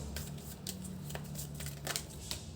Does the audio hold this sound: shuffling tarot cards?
yes